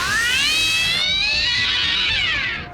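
A human voice imitating a cat gives a ghostly child's meow and drawn-out shriek from the horror film Ju-On: two piercing, wavering cries that rise and bend in pitch, loud and close, without other sounds.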